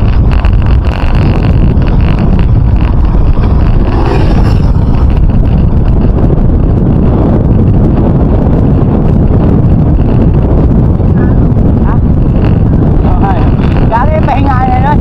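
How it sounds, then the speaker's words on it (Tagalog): Strong wind buffets the microphone on a long road during a cycling ride near Baler, Aurora, a steady low rumble lasting throughout, with people talking over it. "ang lakas ng hangin"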